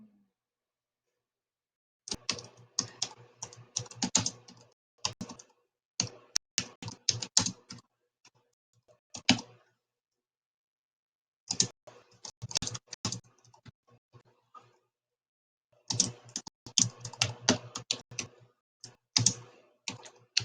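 Rapid bursts of clicking keystrokes on a computer keyboard, close and clear, typed in uneven runs separated by short quiet pauses, with no talking.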